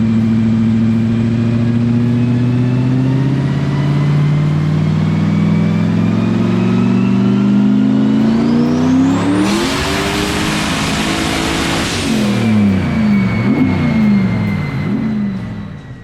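Turbocharged 4.6-litre two-valve Ford Mustang engine making a loud pull on a dyno, rising steadily from a low drone to a high, screaming peak, then dropping back and burbling as it winds down.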